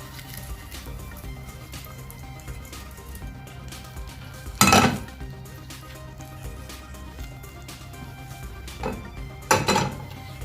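A hot clay pot of mackerel curry, just topped with a mustard-seed tempering, is swirled on a surface. Soft scraping is broken by two louder clattering knocks of pottery, with no talk.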